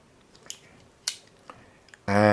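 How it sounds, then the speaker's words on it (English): Leatherman multitool scissors snip a few times, sharp brief clicks spaced apart, close and fairly quiet, followed by a loud burst at the end. "you've got a really nice pair of scissors"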